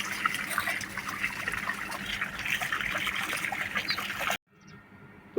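Insecticide solution pours steadily around the base of a fig plant damaged by stem borer, a continuous close gushing trickle that stops abruptly near the end.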